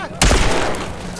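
A single loud gunshot from The Last of Us gameplay cracks sharply and leaves a rumbling tail that decays over the next second.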